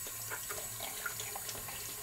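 A bathroom tap runs in a steady, close, even stream of water into a sink as a face is rinsed, with no talking.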